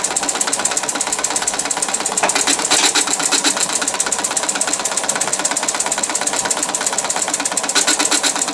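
A homemade horizontal steam engine fired by propane runs steadily, giving a fast, even mechanical chatter of rapid puffs and clicks with a constant hiss of escaping steam, close and continuous with no talking.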